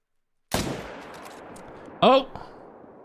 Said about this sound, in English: Beautiful shot right there.